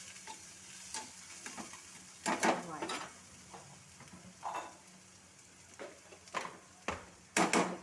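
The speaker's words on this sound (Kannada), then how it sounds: "ಸ್ವಲ್ಪ ಹಾಕಿ ಫ್ರೈ ಮಾಡೋಣ." Coriander leaves fry with salt in a pan for a rice dish, giving a quiet background sizzle broken by several sharp bursts of scraping and clattering as the mixture is stirred.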